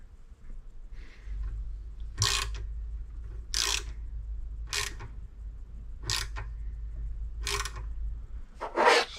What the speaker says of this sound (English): So I decided to try to tap it.